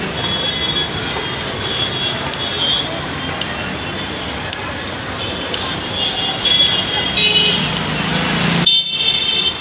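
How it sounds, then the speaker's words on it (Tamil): A Mumbai metro train runs along its rails with a loud, continuous rumble and high wheel squeal, growing rougher and louder toward the end, while voices talk underneath. "நம்ம இன்றைக்கி மும்பை மெட்ரோவில் போயிட்டுருக்கோம்"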